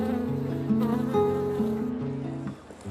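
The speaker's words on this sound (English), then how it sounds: "The buzzing of insects in our beds and borders is one of the most evocative sounds of summer." Insects buzz among garden flower beds at a flower show, a close, continuous drone with wavering pitch as wings come and go over a few seconds.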